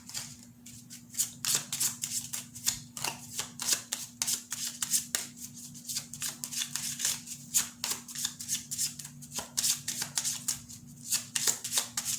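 Tarot cards are shuffled in a steady run of crisp riffling flicks, close and fairly soft, with no talk over them.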